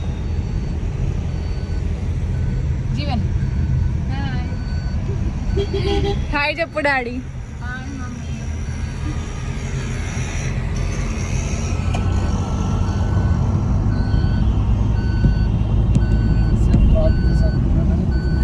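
Dense road traffic on the way to an airport, with car and truck engines rumbling steadily throughout and a brief run of reversing beeps midway, while people talk over the noise inside the vehicle.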